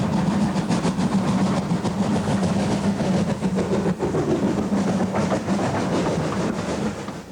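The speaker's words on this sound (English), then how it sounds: "2392 punches its way through a cloud of steam created by the BLS locomotive Tiny." Steam pannier tank locomotive 2392 works through Haworth Yard on the Keighley and Worth Valley Railway, a loud, steady roar of steam and rolling wheels that holds for several seconds, close by and with no voices.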